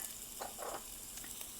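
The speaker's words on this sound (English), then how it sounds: "next I'm going to add 2 cloves of garlic that are minced" Minced garlic cloves sizzling in a hot pan for Thai chicken lettuce wraps, a steady faint frying hiss with a few soft stirring scrapes, close and alone without talk.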